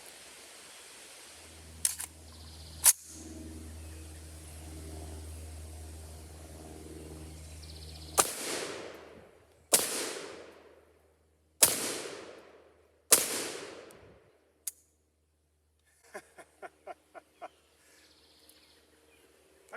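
A CMMG Mk47 Mutant rifle fired outdoors in four slow, evenly spaced loud shots, each with a sharp crack and long fading echo, followed by softer metallic clicks.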